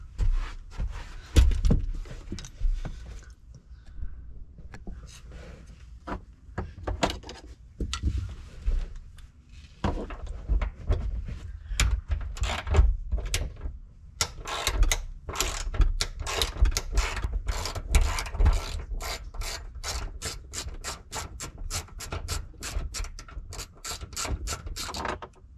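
A ratchet wrench undoes the 15 mm seat bolts in a 2019 Chevrolet Silverado 2500 cab, with bursts of fast clicking that speed into long rapid runs, plus occasional clunks, close up.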